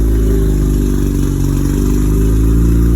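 A Mazda RX-7 FD rotary engine idles on a cold start through a full turbo-back exhaust, a loud, steady, close burbling drone with a constant low throb and no talk.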